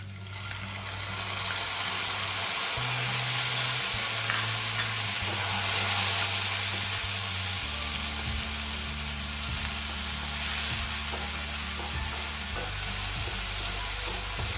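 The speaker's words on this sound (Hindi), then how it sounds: "जिंजर और गार्लिक के पेस्ट को हमें प्याज के साथ कुछ देर भूनना है" About two tablespoons of ginger garlic paste fry with golden brown onions in a pan for a masala pulao, a loud continuous sizzle over a low steady hum, close up and without speech.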